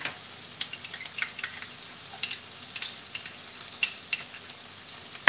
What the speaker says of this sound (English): Put your garlic in